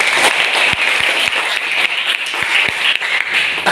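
Classmates in a school chemistry lesson applaud a student, a loud close burst of many hands clapping steadily for nearly four seconds, with a few distinct sharp claps.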